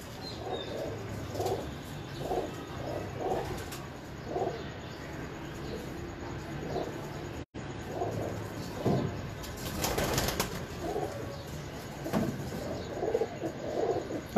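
Pigeons at a home breeding loft coo steadily in soft repeated low phrases close by, with occasional wing flaps and a brief burst of rustling partway through.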